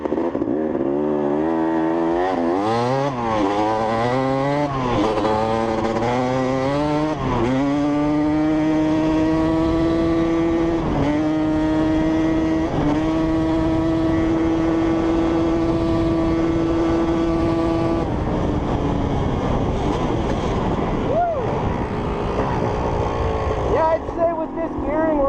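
A Yamaha YZ250 two-stroke dirt bike engine converted into a three-wheeler, with DT Motorsports suspension, buzzes loud and close throughout, its pitch climbing in repeated rising sweeps through the gears before holding a steady high drone at speed, then easing off near the end.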